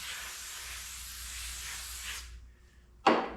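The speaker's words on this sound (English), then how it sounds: "I've got this brake cleaner" A can of brake cleaner sprays onto a motorhome window, a long steady hiss that cuts off, followed by a short sharp spray burst, all close to the listener.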